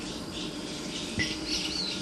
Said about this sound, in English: Listen to that whistling sound, which is from the Taiwan sibia.